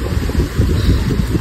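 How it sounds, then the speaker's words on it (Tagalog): Strong wind blows across a mountaintop where a tree house is being built, a loud, steady rumble buffeting the microphone with no voices. "Medyo malakas ang hangin dito ngayon."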